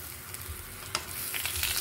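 Dried milkfish (daing na bangus) fries in a pan with a steady close sizzle and crackle, with a few brighter spits and pops of hot oil and no talking.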